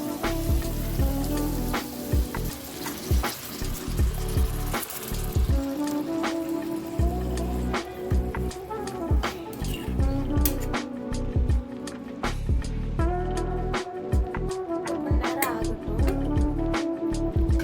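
Dissolved jaggery water goes into a pan of cooking sweet and spicy mango pickle, giving a steady wet sizzling, trickling patter under a constant tonal background.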